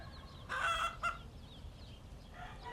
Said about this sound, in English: the humble chicken, descendant of the dinosaurs.